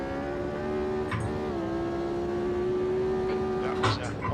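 Formula 1 car with a V8 Cosworth engine in the racing game Automobilista 2, holding a steady high-pitched engine drone that dips slightly during a shift, with faint tire noise and no talk over it.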